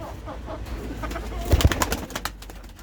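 Pigeons of various breeds, many rescued strays, coo in a loft amid rustling and shuffling, with soft, low calls that rise briefly in the middle and no talking.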